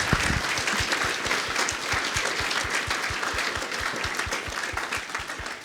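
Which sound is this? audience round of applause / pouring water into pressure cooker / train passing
audience round of applause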